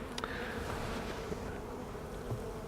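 Honeybees on a beehive frame make a steady, close, even buzzing hum throughout, with no voices.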